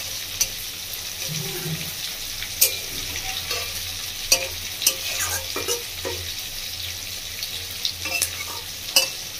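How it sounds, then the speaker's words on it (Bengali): Fish frying in oil over a medium flame makes a steady, close sizzle broken by sharp clicks and scrapes from stirring. "একদম মিডিয়াম ফ্লেমে ভেজে নেবেন। আমি এভাবে ভাজছি একটু হাতের সময় নিয়ে।"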